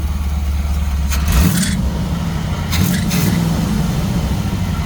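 A 1964 Chevrolet Suburban engine with a flex fan runs at a steady idle, then revs sharply twice in short, loud bursts before settling back into its rumble.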